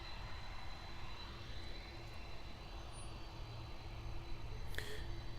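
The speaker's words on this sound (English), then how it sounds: "747-400 freighter already lining up on runway 9er" A Kalitta Air Boeing 747-400 freighter lines up on runway 9 at Miami International Airport, its jet engines giving a steady, distant rumble and whine over open-air wind noise, with a faint brief chirp near the end.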